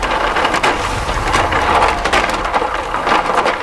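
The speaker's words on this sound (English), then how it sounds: "we're going to turn this auger off because we got a bunch of ice in there" Auger in a Bunn Ultra-2 slush machine churning ice, with a loud continuous crunching and grinding texture of broken ice, close up and without talk.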